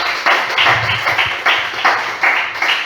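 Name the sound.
church congregation applauding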